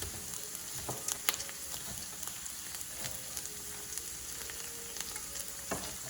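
Vegetables sizzle in a frying pan over sautéed onion and garlic, a continuous crackling fry with occasional sharper pops and stirring clicks, close and moderately quiet.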